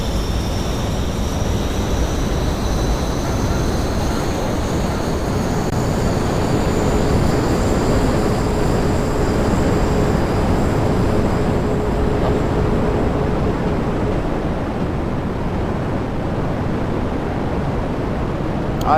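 Jet aircraft taking off on afterburners at a practice airshow, a loud, continuous broadband roar with high whining engine tones that rise slightly, easing off a little toward the end, with no speech.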